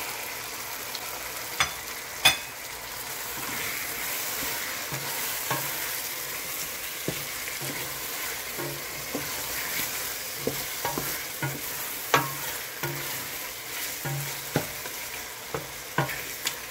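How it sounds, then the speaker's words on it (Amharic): Meat fries in a pan with tomato and onion for Ethiopian gomen besiga, a steady close sizzle broken by frequent scraping and clacking stirs of a utensil against the pan. "አሁን ስጋ እየተጠበሰ እያለ"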